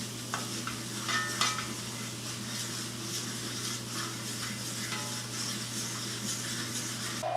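Flour cooking in oil and being stirred in a pan for a roux, a steady close sizzle with scraping stir strokes running throughout over a low hum, no talking.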